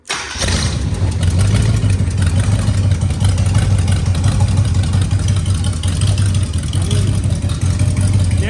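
An old 345 engine cranks and catches almost at once, then settles into a loud, steady, low rumbling run that holds evenly to the end.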